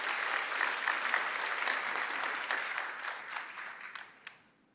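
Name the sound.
audience applause welcoming a speaker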